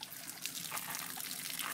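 A man urinates outdoors in the Malaysian jungle, producing a faint, steady liquid trickle that runs without a break and without any talking.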